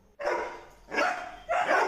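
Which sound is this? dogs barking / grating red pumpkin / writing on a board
dogs barking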